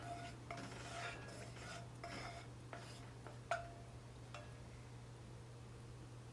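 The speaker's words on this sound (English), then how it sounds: "Just going to stir it around so the bottom of the tagine is covered." Soft scraping and light clinks of a utensil stirring oil in a heavy cast iron tagine, a few quiet taps, close and faint over a low hum.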